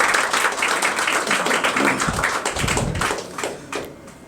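An open mic poetry audience claps in a fairly loud round that thins and fades toward the end, with scattered individual claps standing out as it dies down.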